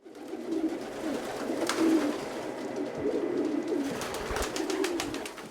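Pigeons cooing softly in soft low rolling phrases, several birds murmuring continuously at a moderate distance, with faint clicks and shuffling noises mixed in.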